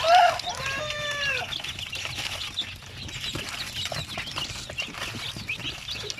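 One-month-old Shamo Aseel chicks give a few clear, high peeps near the start, followed by a soft, steady background of rustling and faint chick sounds.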